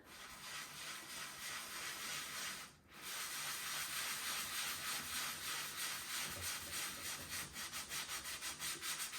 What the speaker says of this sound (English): All right, so I'm gonna go ahead and scrub.